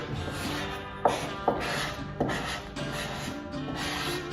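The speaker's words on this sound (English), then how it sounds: "Now we're just gonna squeegee it." A squeegee is rubbed repeatedly across vinyl lettering as a decal is pressed onto the hood of a Jeep Wrangler JL, making a steady scraping swish with a few sharper strokes, close and fairly quiet.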